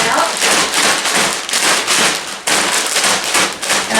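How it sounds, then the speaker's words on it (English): Frozen hash browns are banged inside their bag to break them apart, producing loud, repeated crackling rustles in quick bursts close up, with a brief pause between bursts. "I'm going to bang these, break these up a little bit."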